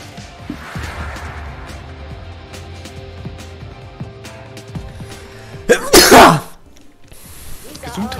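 A single loud sneeze bursts out during an Apex Legends gaming session, sharp and close, rising above quiet game sounds and background music.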